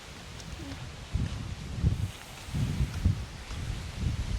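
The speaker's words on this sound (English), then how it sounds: "So windy and breezy today, huh?" Steady breezy rustling of leaves in gusting wind outdoors in Bacolod, Philippines, with low rumbling bursts rising and falling every second or so; no clear speech.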